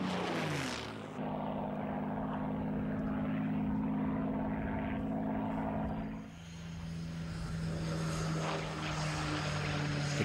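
A propeller-driven fighter replica, a Spitfire or Mustang reproduction built at two-thirds or three-quarter scale, drones steadily in flight with a loud, continuous engine tone that dips briefly partway through, heard alone without voices.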